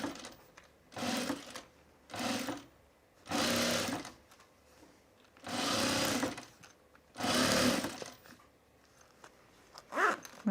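Sewing machine stitching the lining of a zippered bag, heard as five loud, close bursts of whirring motor and needle, each lasting about a second with short quiet pauses between runs.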